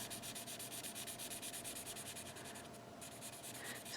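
Marker ink being rubbed off a wooden bead, a steady, quiet, close scratchy rubbing with quick regular back-and-forth strokes and no talk.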